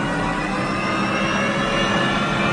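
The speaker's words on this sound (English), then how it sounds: "First, the small accessory engine. Then, the gas turbine." A 1958 GM Firebird III gas turbine engine starts up with a loud, steady broadband roar and a faint high whine rising slowly over it.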